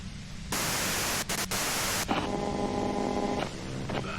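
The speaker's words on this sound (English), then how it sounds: "If you've got something really important to say, you can do it through the white noise." Loud broadband radio static from the Disco Elysium game, a harsh hiss lasting about a second and a half with two brief dropouts, then giving way to a quieter humming, tonal radio noise.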